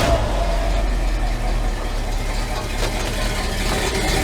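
A truck engine idles steadily and close by, a continuous low rumble with no noticeable changes in revving, heard without talking.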